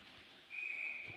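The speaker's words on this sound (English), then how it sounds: "we are going to get a whistle with 17:34 to go" A referee's whistle at a college ice hockey game gives one sharp, steady blast lasting just over half a second, standing out clearly above the low rumble of the arena crowd.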